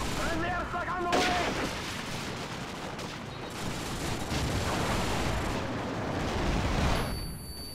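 Rumbling airstrike explosions and gunfire in the video game Call of Duty 4, dense and continuous for several seconds, with a brief synthetic radio voice at the start.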